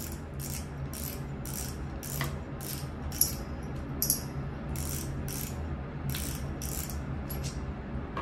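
A saltwater spinning reel with an advanced spool clicker ratchets in a steady series of sharp clicking bursts, about a dozen evenly spaced, heard close up with no talking.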